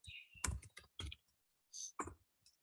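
Keys clack on a computer keyboard while someone writes a first web program in HTML, a few quiet, irregular bursts of clicks separated by short pauses, close and alone.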